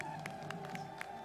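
Crowd cheering and clapping in welcome of the chief minister at a public event in Balasore, Odisha, a dense steady roar with ululating bursts rising at regular intervals over about a second.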